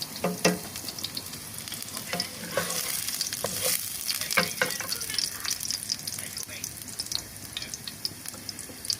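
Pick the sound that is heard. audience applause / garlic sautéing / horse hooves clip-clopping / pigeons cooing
garlic sautéing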